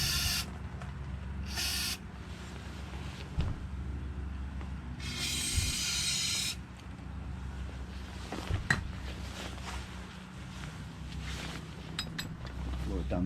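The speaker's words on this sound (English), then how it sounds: "I'm going to take some gun cleaner and blow it down the barrel." Lucas Oil aerosol gun cleaner is sprayed down the barrel of an AR-15 9mm rifle, giving a few short, bright hissing bursts, the longest lasting over a second, over a faint, low background rumble.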